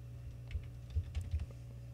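A few quick keystrokes on an international computer keyboard, close and soft, several clicks in a short irregular burst over a low steady hum.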